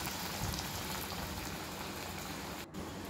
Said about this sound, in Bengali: এটাতে আমি শুধু জাস্ট বেসনে দিয়ে আর কর্নফ্লেকের ডাস্টে লেয়ার করে তেলে দিয়ে দিলাম